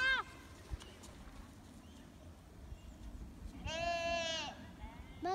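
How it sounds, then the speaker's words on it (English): Sheep bleating outdoors in a mountain setting, with two or three distinct wavering bleats spaced several seconds apart, one long and fairly loud in the middle and shorter ones at the start and end, over faint background noise. "look, another sheep."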